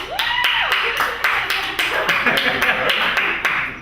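An audience claps in a courtroom-themed event to vote for an option, a scattered run of sharp claps with a voice speaking over the first part, near and fairly loud.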